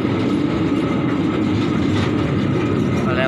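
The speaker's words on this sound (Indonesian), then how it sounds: "Perjalanan langsiran dari depo ACC Tegaluar menuju stasiun" Shunting train running on rails from the ACC Tegaluar depot toward Rancaekek station, a steady loud rumble with wheel noise and faint clickety-clack throughout, no talk.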